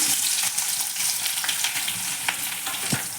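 Large onions and cumin seeds sizzle and crackle steadily in hot oil, a dense, close frying hiss with occasional sharper pops.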